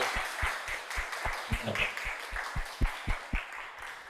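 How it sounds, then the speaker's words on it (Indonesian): A classroom applauding a student, a short burst of sharp hand claps in a loose, uneven rhythm, fairly close and moderately loud, no talking. "Tepuk tangan dulu buat Agung ya."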